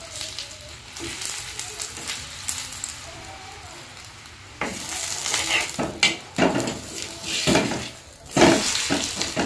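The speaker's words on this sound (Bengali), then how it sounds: "এপিট ওপিট করে ভেজে নিয়েছি। এবার আমি এপিটের তেল লাগাবো।" A paratha fries in oil in a pan, a hissing sizzle rising in louder bursts as it is handled, mixed with clattering utensil sounds, nearby and without clear talk.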